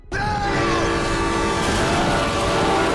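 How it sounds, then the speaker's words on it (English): A train approaching on a track sounds with a sudden loud onset, a sustained horn-like tonal blare over heavy rumbling wheels and roar, close and steady, with no talk. "Meanwhile, Martin wakes up on a train track and narrowly escapes an upcoming train."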